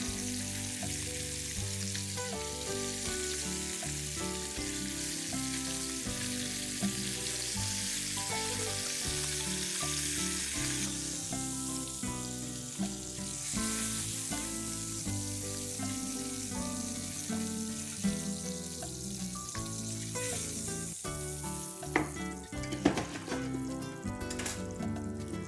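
Ossobuco searing in hot oil, a steady, close sizzle and crackle running continuously throughout, with occasional louder spits and clatter toward the end.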